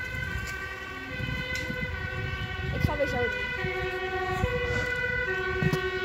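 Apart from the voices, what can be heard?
emergency vehicle siren passing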